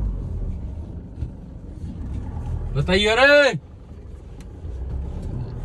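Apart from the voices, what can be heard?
Isuzu V-Cross 4x4 driving through a farm field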